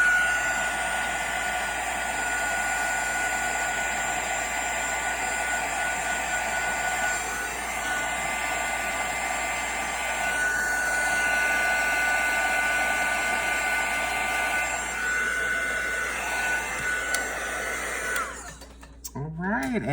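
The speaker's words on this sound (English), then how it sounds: "Grab the little heat gun again." A small heat gun blowing for stamping craft, a loud, steady airy whine and whoosh running continuously, with a slight wavering in tone and a clatter as it cuts off at the end.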